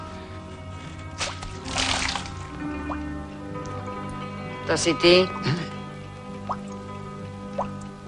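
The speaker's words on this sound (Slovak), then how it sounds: "Niečo kvapka." Water drips in a few sharp, separate drops amid a mix of spoken Slovak dialogue, with some louder wet splashes near the middle and isolated drips toward the end.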